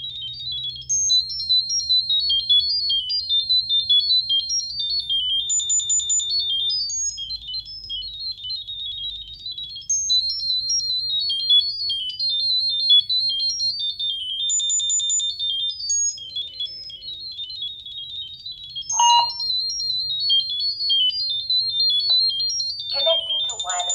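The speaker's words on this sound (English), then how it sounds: "Click to send the sound wave." A phone sends rapid warbling high-pitched pairing tones to a MobiCam WiFi baby camera, a continuous chirping electronic sequence that runs loud and unbroken throughout, with a steady low hum underneath.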